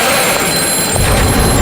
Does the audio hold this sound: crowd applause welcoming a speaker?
no